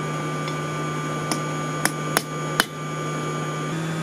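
A hammer strikes a hot railroad spike corkscrew on an anvil, giving a few sharp metallic taps, four or five sparse blows over steady background noise from the forge.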